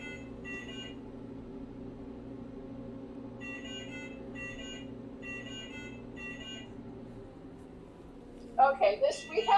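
An aircraft system's drug feed error alarm gives repeated short electronic beeps in spaced pairs and groups over a steady low hum, with a sharper burst of tones near the end.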